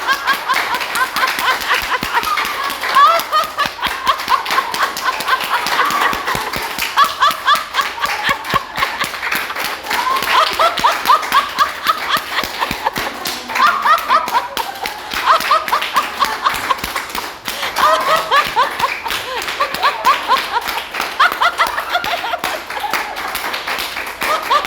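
A group claps vigorously and steadily for a long stretch at a church new-members class, dense rapid hand claps mixed with laughter and voices throughout.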